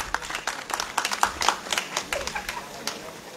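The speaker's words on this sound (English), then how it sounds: "Let's clap for Bafem once again." An audience at a Lagos real estate event claps in a short burst of scattered, close applause lasting a few seconds, with voices mixed in beneath the clapping.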